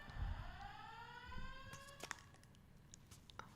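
An alarm goes off in the background, a faint, distant electronic tone that rises in pitch and then falls away into quiet room noise with a few small clicks.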